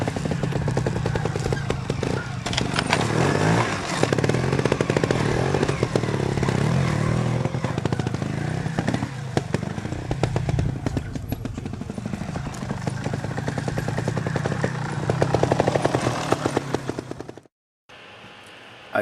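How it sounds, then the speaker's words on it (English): A trial motorcycle rides through a section, its engine putting and revving in a busy, irregular clatter at moderate distance, then cutting off abruptly near the end. "here's a third example of section riding from Bob"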